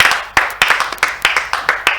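Rhythmic clapping from a crowd at a Christian prayer evening, steady sharp hand claps in a fast regular beat, fairly close and loud, with no voices over it.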